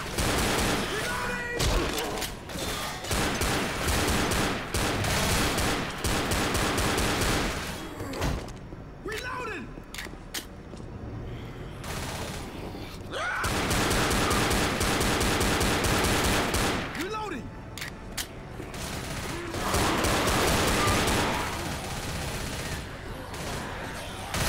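Rapid automatic gunfire in the zombie shooter Left 4 Dead on a prison level, sustained bursts of loud, dense shots broken by brief pauses, with characters talking in between.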